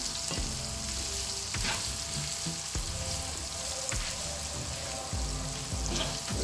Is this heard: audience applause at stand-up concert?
no